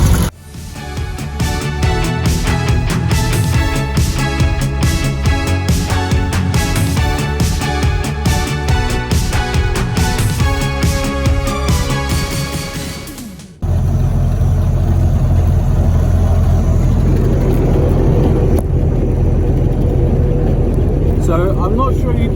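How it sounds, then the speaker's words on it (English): A 1978 Mini on the road in Tanzania gives a loud, steady engine rumble with mechanical rattle, which drops suddenly partway through into a heavier, smoother low drone. "I'm not sure you can hear me over the beautiful rumble of the engine"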